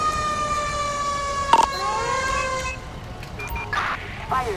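In the GTA 5 video game, a fire truck siren wails in rising and falling sweeps, broken by a short horn blast, then trails off into quieter vehicle sounds.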